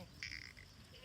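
A Kathiawadi goat at a livestock sale gives one short, nasal bleat of about a third of a second, fairly close, over a low murmur of background noise.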